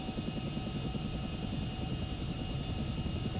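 Chinook helicopter hovering in the ArmA military flight game, a heavy twin-rotor airframe giving a steady, loud, continuous rotor and turbine drone with fine rapid low thumping throughout, no voices.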